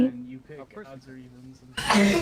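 A single sharp sneeze bursts out loudly at the end, right after a person speaks calmly in a casual setting.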